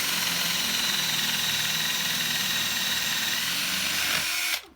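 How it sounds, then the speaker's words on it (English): An electric drill bores into wood with a loud, steady whirring grind lasting several seconds, then cuts out abruptly at the end; no one speaks. "Sometimes you have to back the drill out because it gets full of sawdust."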